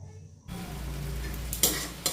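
Cabbage hits hot oil left from frying fish, with whole spices in it, bursting into a sudden close sizzle after a quiet start and carrying on steadily with a couple of brief stirring scrapes.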